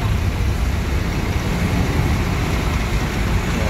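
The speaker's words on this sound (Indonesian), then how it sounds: "Mobil kargo keluar juga." Cargo vehicle pulling out of a crowded bus parking area in light rain, a steady low engine rumble and road noise with a constant wash of background hiss, no clear voices.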